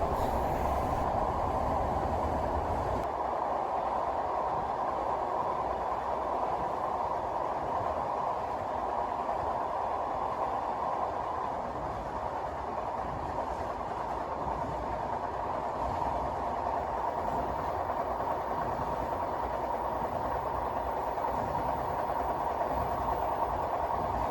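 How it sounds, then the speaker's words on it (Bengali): A steady rumbling drone of a train crossing the Padma Bridge in Bangladesh, continuous and fairly loud throughout, with no speech. "আমরা রেল লাইন দিয়ে পদ্মা সেতু পার হচ্ছি"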